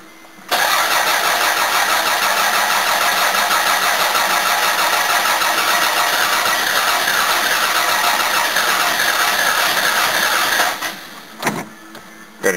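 A Toyota Camry engine turns over and catches, then runs at a steady loud idle for about ten seconds before cutting off abruptly.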